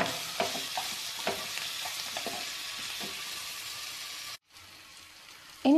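Chilli prawns are stirred in a hot pan with a little sugar, giving a soft, steady sizzle with light scraping strokes, fairly quiet and close, followed by a brief drop in sound and a clatter at the end.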